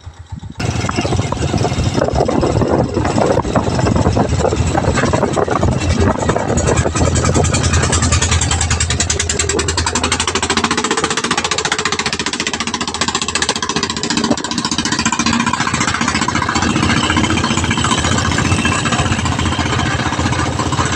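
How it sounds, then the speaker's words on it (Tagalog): A helicopter passes overhead along a rural road near Tarca Dam in Bugallon, Pangasinan, its loud, steady rotor and engine roar filling the whole stretch and easing slightly in the second half, with no talk. "May dumaan na helicopter"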